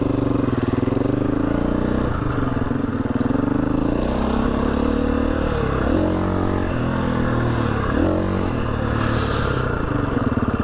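A motorcycle engine runs loud and close throughout, its pitch rising and falling as the throttle is opened and eased off during wheelies ridden without the clutch, with some clatter underneath.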